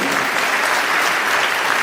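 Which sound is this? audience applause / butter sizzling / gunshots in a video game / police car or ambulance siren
audience applause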